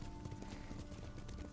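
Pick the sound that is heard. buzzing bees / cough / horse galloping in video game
horse galloping in video game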